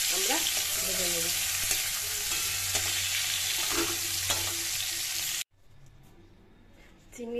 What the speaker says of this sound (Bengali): এবার চিংড়ি মাছগুলোকে আমরা ভেজে নেব।